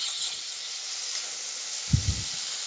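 Fennel seeds and cumin fry in a hot pan with a steady soft hiss, broken near the end by two brief low thumps.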